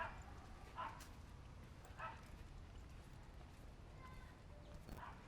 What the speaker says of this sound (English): there's dogs barking like crazy right now